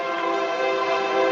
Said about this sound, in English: Oh crap! That train.